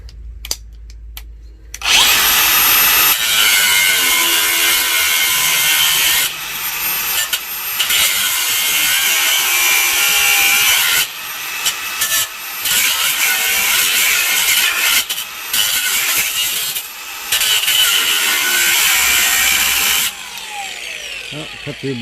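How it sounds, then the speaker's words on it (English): A power tool cuts through a rotted exhaust pipe on a Ford V10 Super Duty truck, a loud, steady grinding rasp lasting about twenty seconds with several brief pauses. Faint speech sits under the cutting. "See if I can slit the pipe a little bit here."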